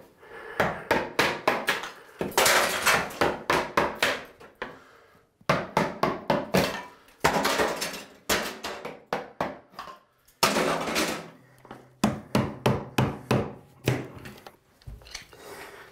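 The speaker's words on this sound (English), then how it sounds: "when ceramic tile breaks like that, it's not the clay that's dangerous, it's the glaze" Ceramic wall tile breaking apart during a bathroom demolition, heard as repeated loud, close bursts of hammering impacts and crunching shards in rapid clusters separated by short pauses.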